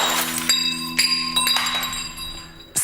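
Stemmed wine glasses fall and break: several sharp, bright clinks in quick succession, ending in a sudden louder crash.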